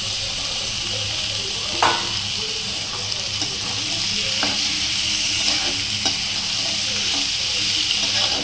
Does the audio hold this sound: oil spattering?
yes